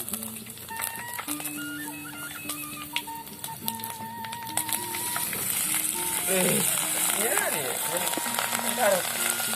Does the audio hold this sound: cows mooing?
no